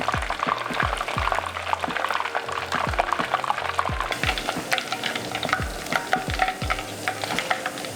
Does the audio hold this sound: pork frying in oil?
yes